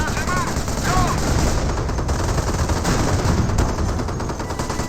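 Dense machine-gun fire rattles without pause against a Staghound armored car in Company of Heroes, a steady close barrage with a voice speaking briefly over the start.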